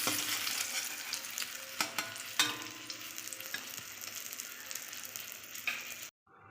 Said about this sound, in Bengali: এই রান্নাটায় মাছ কিন্তু বেশি ভাজে না, মিডিয়াম ভেজে নিতে হবে